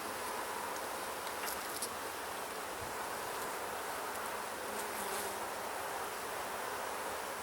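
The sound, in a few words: honey bees buzzing in an opened hive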